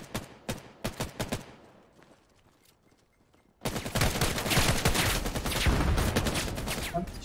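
Rifle shots in the VR shooter VAIL VR: a quick string of separate sharp cracks, a short lull, then a sustained dense barrage of heavy fire that keeps going loud to the end.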